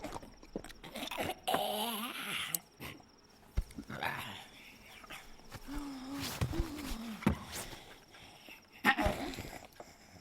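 A dog whimpers at night in a few short, faint whines with quiet pauses, alongside scattered soft knocks and rustles.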